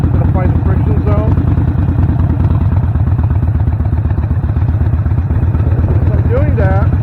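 Motorcycle engine running steadily and loudly up close as a beginner starts the bike and eases out the clutch to pull away slowly, with a voice speaking over the constant putter.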